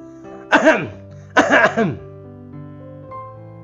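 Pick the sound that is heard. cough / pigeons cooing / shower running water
cough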